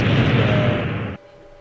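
Explosion in the video game Minecraft: a loud, dense blast with a sustained rumbling roar that cuts off abruptly after about a second, leaving a quiet tail.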